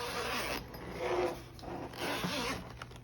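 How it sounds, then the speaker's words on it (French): A zipper runs along a sturdy fabric storage bag about 6 cm thick, made for diamond painting supplies. It gives a close, steady rasping pull in several uneven strokes with no talking. "Donc on a un zipper ici."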